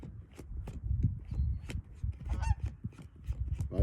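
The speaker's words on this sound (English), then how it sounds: "A goose flying right over my head." A lone goose honks as it flies directly overhead in a garden, its calls coming several times amid rustling and scattered knocks, fairly quiet and with no voices.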